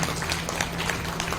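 Audience applause at a Shrimad Bhagwat Katha religious gathering, honoring Govind Bhardwaj: dense, steady clapping from a crowd, moderately loud and continuous throughout the brief moment.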